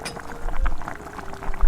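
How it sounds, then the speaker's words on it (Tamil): Boiled chicken bone broth strained through a sieve into a pot, with a steady close pour of hot liquid, soft bubbling and a faint clink of metal, no voices. "இதை நான் இப்போ எலும்பு போட்டு கொதிக்க விட்டுருக்க சட்டிக்குள்ளே வடிச்செடுக்கிறேன்"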